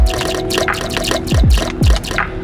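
Water poured onto a Hyundai full flooring car mat splashes and drips in a series of uneven wet spatters and gurgling drops, close and fairly loud, with a faint hum underneath.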